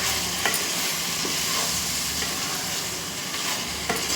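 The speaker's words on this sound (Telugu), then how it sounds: "ఒకసారి మిక్స్ చేసుకుంటున్నాను. మిక్స్ చేసుకుని మూత పెట్టి" Chicken fry piece biryani is mixed in a pot, with a loud continuous frying hiss and a few sharp clinks and scrapes from the spoon against the metal.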